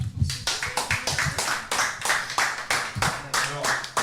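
A small group applauds the winning team at a quiz show, with uneven, moderately paced claps up close and talk mixed in underneath.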